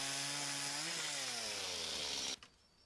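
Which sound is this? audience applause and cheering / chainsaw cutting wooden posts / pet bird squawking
chainsaw cutting wooden posts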